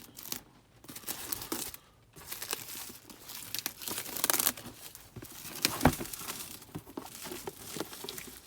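Packaging of a D&D Essentials Kit being torn open and crinkled, done one-handed, with close rustling, ripping and crumpling noises in irregular bursts and no talking.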